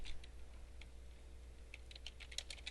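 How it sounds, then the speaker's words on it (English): Keys clatter on a computer keyboard during office software data entry, a quiet run of light irregular taps, denser toward the end, against a faint steady hum. "I'll type in"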